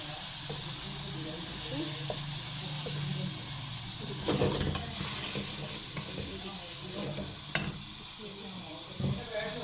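Chicken for chicken karahi sizzles and hisses steadily in hot oil, with occasional stirring scrapes and clatters throughout while someone talks over it.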